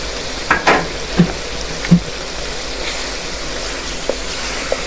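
Spices sizzle and fry in a pan for creamy chicken korma, a steady loud hiss with a few clinks and stirring scrapes, with no voices.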